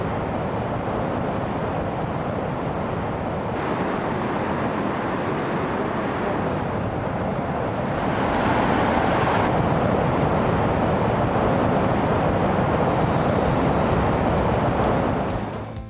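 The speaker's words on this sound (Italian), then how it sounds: "l'impetuoso spettacolo del Salto Grande, che travasa le acque del Norderskjöld al lago Peoe" The Salto Grande waterfall on the Paine River in Patagonia, where the Nordenskjöld lake empties toward Lake Pehoé, roars as a loud, steady, broadband rush of falling water, swelling slightly midway with wind buffeting the microphone.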